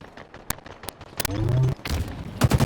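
Gunfire and explosive booms in the Halo video game, a burst of sharp shots followed by a denser volley, with short game voice lines mixed in.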